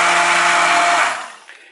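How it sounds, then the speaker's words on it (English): An electric blender whirs steadily, mixing a homemade wood ash soap batch, loud and continuous with a constant motor hum before spinning down and stopping near the end. "So we've got the electric blender out."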